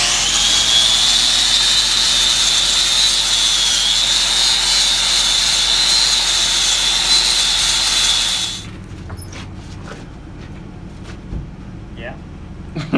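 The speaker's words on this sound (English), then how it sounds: "But this Josh right here is gonna buff up this" A buffing tool runs against a metal part for an oil tank diffuser, a loud, steady high whine with a wavering pitch that holds for about eight seconds, then stops, leaving quieter workshop clatter.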